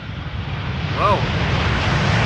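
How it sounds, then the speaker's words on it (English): Airliner landing on runway 18R at Amsterdam Schiphol, a broad rushing engine roar building gently in loudness, with a brief chirping tone midway. "It was a very smooth and soft landing there."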